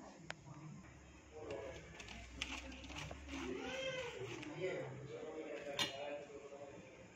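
Lemon pickle stirred in a steel vessel, with metallic scraping and clinks under a woman's speech, close and moderately loud.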